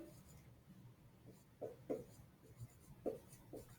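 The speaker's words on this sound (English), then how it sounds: "So in our sentence that I'm going to write on the board" A classroom board is written on, with short scratchy strokes and taps in quick irregular bursts, faint against a quiet room.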